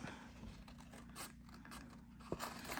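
Quiet, close snipping and crisp rustling as small fussy-cutting scissors cut through paper, with a low steady hum underneath and one sharper snip near the end.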